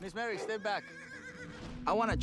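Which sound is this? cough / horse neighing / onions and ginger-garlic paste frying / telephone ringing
horse neighing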